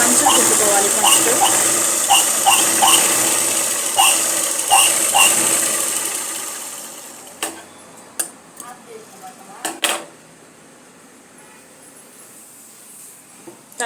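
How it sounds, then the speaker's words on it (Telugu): A sewing machine stitches along both sides of a saree, its motor running in short rhythmic bursts for several seconds, then giving way to a few sharp clicks and knocks as the fabric is handled. "ఇలా రెండు వైపులా మనం మంచిగా కుట్టుకోవాలి"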